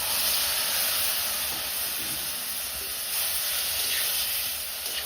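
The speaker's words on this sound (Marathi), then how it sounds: "आता आपण ह्याच्यामध्ये चणे टाकून घेणार आहे" Salted boiled chickpeas land in a hot tempering over a wood-fired chulha, giving an even, unbroken hiss and sizzle close by, with no voices.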